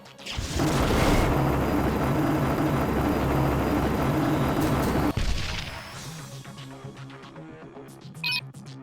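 Helicopter in the Marvel Ultimate Alliance game, a loud roaring rotor and engine drone for about five seconds that cuts off abruptly with a crash, followed by quieter clanks and effects.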